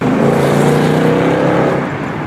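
A 2024 Ford Mustang GT S650 V8 rumbles loudly and close, its exhaust holding a deep, steady burbling drone before cutting off abruptly at the end.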